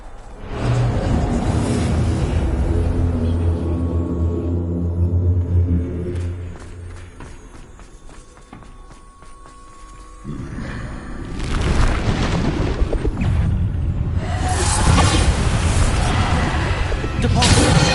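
Bombarda blasting spells exploding in Hogwarts Legacy, a run of heavy booming blasts and rumbling impacts over a dense game soundtrack, with a voice casting spells.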